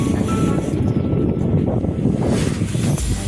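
Steady wind rushing and buffeting across an open microphone on a riverside boardwalk in Valenzuela City, Philippines, with a broad continuous roar and faint water-like movement beneath, no talking.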